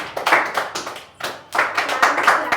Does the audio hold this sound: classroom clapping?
yes